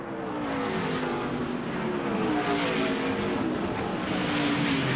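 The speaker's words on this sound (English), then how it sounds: "you can hear in here really very smooth on the throttle as Bliss gets a little loose there" A NASCAR Craftsman race truck at Portland in 1999 holds a steady, smooth engine roar on throttle for several seconds, with no voices over it.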